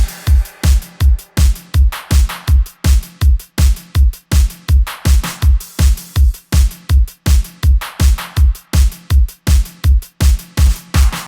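Programmed beat for a post-punk track, layering crash, closed and open hi-hats, claps, two stacked snares and a kick: a steady, punchy loop of evenly spaced hits repeating for about eleven seconds, loud and alone.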